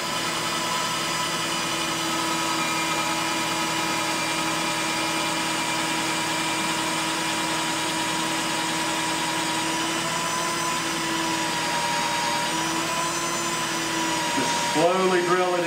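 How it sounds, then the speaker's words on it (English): A lathe spins steadily with a constant tonal whine while a bit is slowly drilled into a wooden teapot, running smoothly for around fifteen seconds before a short shift at the end. "Slowly drill it in."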